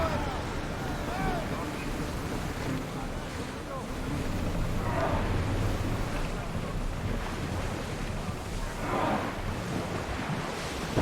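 Sailing ship moving over open sea in Assassin's Creed Odyssey, near the Messara coast: a steady wash of waves and wind rushes under the whole stretch, swelling in soft surges, with faint crew voices mixed in.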